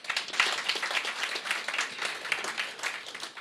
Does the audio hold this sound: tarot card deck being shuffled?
no